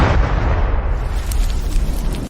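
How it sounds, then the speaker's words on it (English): A heavy, booming explosion sound effect from an animated book summary rumbles loudly and continuously, its deep roar slowly decaying over a couple of seconds. "There's an explosion."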